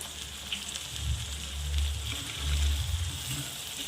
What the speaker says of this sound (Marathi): आता यामध्ये मी टोमॅटो ॲड करते हळद ॲड करते